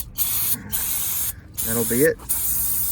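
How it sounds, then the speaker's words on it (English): Nuco brake cleaner sprays from an aerosol can onto the wheel hub and brakes of a 1996 Suburban, several sharp close hissing bursts separated by short pauses, with someone speaking briefly between them. "I'm gonna spray this down with the old Nuco brake cleaner"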